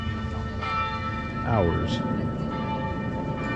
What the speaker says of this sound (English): let you enjoy the bells as it is 6 p.m.